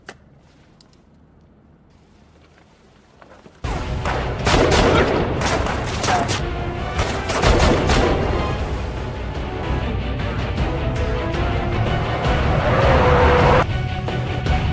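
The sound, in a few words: gunfire in a gunfight scene from the film High & Low Red Rain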